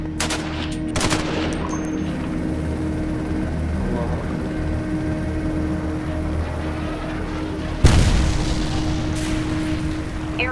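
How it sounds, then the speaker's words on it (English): Wartime gunfire and explosions in Syria, with a steady rattle of shots under a loud rumbling backdrop and a sharp heavy blast near the end. "Airstrikes on the innocent."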